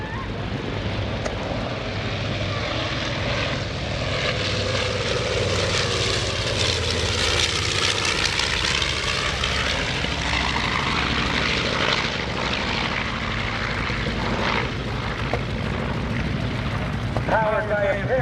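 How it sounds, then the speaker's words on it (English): Twin Wright R2600 radial engines of a B-25 Mitchell bomber drone loudly overhead at an airshow, the pitch sweeping as the plane passes, with faint talk underneath. "Powered by a pair of Wright R2600 radial engines"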